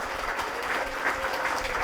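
Audience applauding at a regional party election rally for party leader and deputy posts, a steady wash of clapping from a crowd that holds evenly for the whole short stretch.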